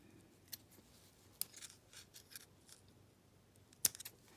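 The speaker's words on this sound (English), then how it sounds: "all I have to do is just snip off the extra" Scissors snip through the extra twine after a knot is tied on a decorative Christmas tassel, giving a few short, crisp cuts spread apart in a quiet room, the last snip the loudest.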